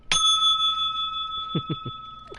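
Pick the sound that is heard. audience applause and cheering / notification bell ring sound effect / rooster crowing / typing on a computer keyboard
notification bell ring sound effect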